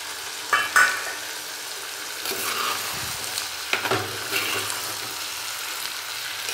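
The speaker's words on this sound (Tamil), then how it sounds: "இப்போ சுண்டைக்காய் சேர்த்துக்கலாம்." Turkey berries (sundakkai) sauté in a pan for a green sundakkai kuzhambu. They make a soft, low sizzle, broken up by a few spoon clatters and stirring scrapes, heard close by.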